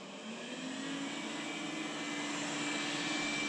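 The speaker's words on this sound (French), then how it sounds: "je vais vous laisser écouter le bruit de l'aspirateur" A Dreame D10s Pro Plus robot vacuum cleaner runs nearby with a steady whirring hum and a faint high whine, rising slightly in level as it keeps going, with no talk over it.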